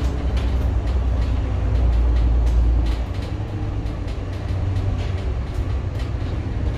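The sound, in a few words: MAN Lions City bus driving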